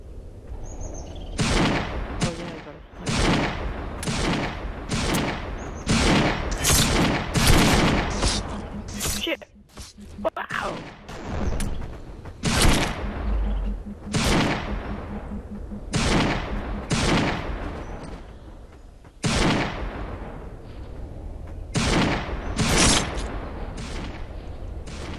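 Repeated pistol gunfire in the video game Murder Miners, with sharp, loud shots arriving in irregular bursts over a long stretch and a voice talking between some of them.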